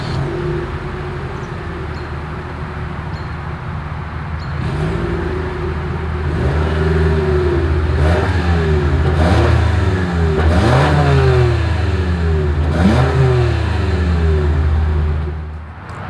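A 2023 Toyota RAV4 engine revs repeatedly through the exhaust, rising and falling in several throaty bursts over a steady idle, close and loud.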